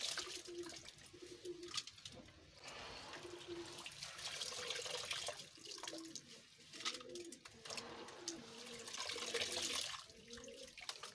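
Grain being swished and rinsed in water, with a steady splashing and trickling, while pigeons coo softly nearby.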